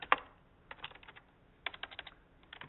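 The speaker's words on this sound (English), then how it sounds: "when you type in your name here" Typing on a computer keyboard, a few quiet clusters of light clicking keystrokes with pauses between bursts, close and soft.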